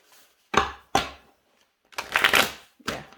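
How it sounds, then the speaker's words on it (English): A casino-style shuffle of a Goracle Dark Oracle tarot deck by Chain Assembly: four close, crisp riffling bursts of cards, two short ones, then a longer rustling run and a final quick flutter, with silence between. "let's see how they casino shuffle."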